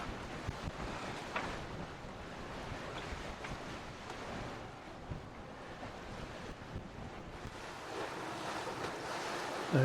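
Sea waves and gusting wind around a sailing boat cruising off the Northland coast near Hole in the Rock Island, a steady rushing wash with wind buffeting the microphone throughout.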